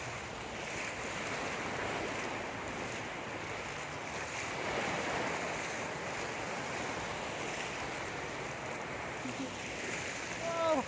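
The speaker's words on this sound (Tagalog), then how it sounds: "Ang laki ng alon dito." Heavy ocean surf rolls and crashes steadily on a beach at Binmaley or Lingayen, with wind buffeting the microphone, a broad roar that swells midway and again near the end.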